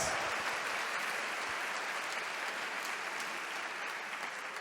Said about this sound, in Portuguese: Aplauda Ele com muita alegria agora, por favor.